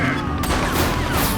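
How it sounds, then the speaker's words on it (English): Gunfire from The Precinct video game rings out in a dense, continuous burst of shots and impacts with loud game audio throughout, no clear pauses. "Shots fired!"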